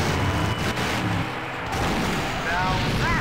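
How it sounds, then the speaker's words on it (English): A large explosion booms in the video game Full Throttle, a heavy rumbling blast that rolls on for several seconds amid crackling debris and chatter, with a voice speaking over it. "Now that's an explosion,"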